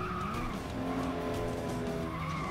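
Tires of a racing car squeal through a long oversteer skid in FlatOut Ultimate Carnage, a loud continuous screech over steady engine roar from start to finish.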